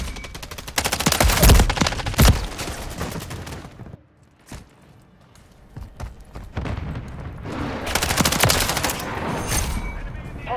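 Rapid gunfire in a first-person shooter game, with dense bursts of automatic fire in the opening seconds, a short lull, then more sustained shooting, loud and close with faint voices mixed in.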